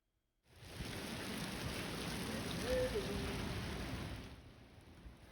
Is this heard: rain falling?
yes